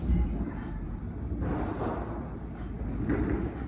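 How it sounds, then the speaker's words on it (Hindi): Diwali firecrackers going off outside a home, heard as distant muffled booms and rumbling bursts over a steady indoor background, with no talk. "कैसे पटाखों की आवाज़ आ रही है।"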